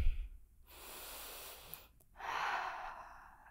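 Slow, deep breaths taken while holding a power yoga pose, with a long soft exhale and then another drawn-out breath, close and quiet.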